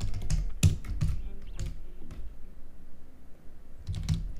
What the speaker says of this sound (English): Type the IP address